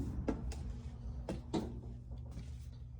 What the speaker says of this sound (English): So just fold in, fold up, and you close the door.